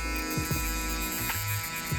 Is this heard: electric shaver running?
yes